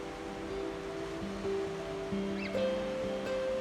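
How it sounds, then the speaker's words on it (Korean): Ocean waves break steadily on a rocky coast in Ulsan, South Korea, a continuous wash of surf heard with sustained musical tones layered over it. "가만히 귀를 기울이다 보면 파도 소리가 들리고 바다 향기가 맡아져서 참 좋았던 곳입니다"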